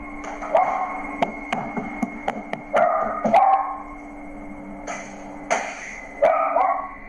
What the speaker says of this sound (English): Strange noises are heard in the background and seem to be disturbing the dog, causing him to bark